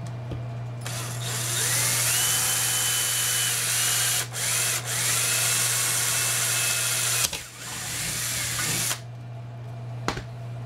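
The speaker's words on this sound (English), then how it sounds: "Alright, so I got all the holes drilled." A power drill bores holes in an underwater camera housing, its steady high whine running loud and close for several seconds with brief pauses and a second burst near the end.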